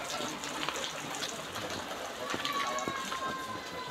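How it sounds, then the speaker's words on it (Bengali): Water runs and trickles steadily over a stone-paved spot at a jungle-surrounded homestay, a continuous gushing flow heard fairly close, with a faint tonal whine partway through. "ঝুনঝুন করে জল পড়ছে।"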